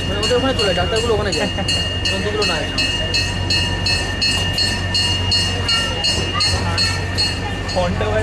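A small zoo train rolls along with a steady rhythmic clatter of wheels and a constant mechanical hum, while a voice talks over it.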